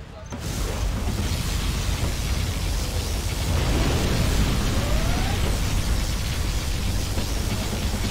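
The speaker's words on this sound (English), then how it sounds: "Warning, particle cannon activated." A particle cannon blast in C&C Generals erupts after a short quiet start into a loud, sustained roaring rumble that holds steady like a drawn-out explosion for several seconds.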